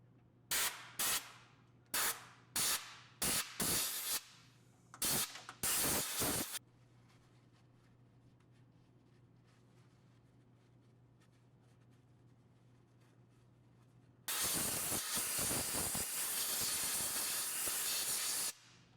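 An aerosol can of penetrating oil sprays onto the rear trunnion of a SawStop contractor table saw in a series of short, sharp hissing bursts, then a quiet pause, followed by one long continuous spray close by.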